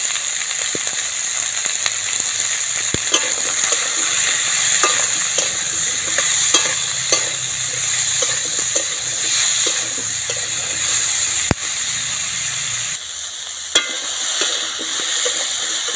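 Chopped potatoes with turmeric and salt fry in a pot, with a loud, continuous sizzle and hiss broken by frequent scraping stirring strokes throughout, and no talking.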